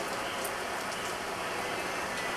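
Steady rain falls at a wildlife and theme park in Florida where alligators roam, a dense, even hiss of drops on surfaces filling the whole stretch with no break and no voices.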